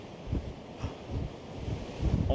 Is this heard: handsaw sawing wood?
no